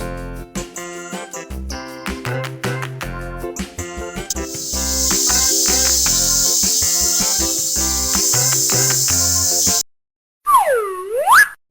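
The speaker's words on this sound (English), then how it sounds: "Cicada." A cicada's sustained, loud, hissing buzz, steady for several seconds, set over bright children's music and ending abruptly before a short springy sound effect.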